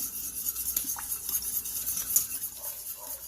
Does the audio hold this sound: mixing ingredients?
yes